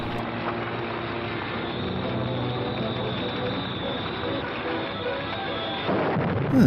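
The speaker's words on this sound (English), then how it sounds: "Some fireworks." Fireworks in an old film serial burst as a steady rumbling roar of explosions, muffled and band-limited like vintage soundtrack audio, with a louder swell at the end.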